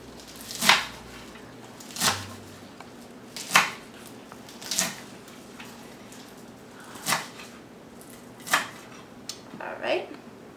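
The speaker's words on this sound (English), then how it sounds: "So I'm going to show you how I chop kale." Kale chopped with a knife on a cutting board in a home kitchen, seven or eight crisp separate thuds spaced about a second or two apart, close and clear with quiet gaps between.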